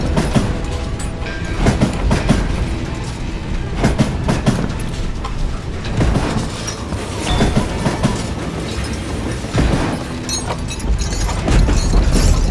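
A train runs in the western action game GUN with a loud, continuous rumble and rhythmic clickety-clack of wheels over rail joints. No one speaks over it.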